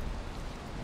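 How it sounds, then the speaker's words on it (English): Steady rain pours down in the Valheim video game, a dense, even hiss of falling water with low rumbling, continuous and alone without voices. "Is it because it's raining?"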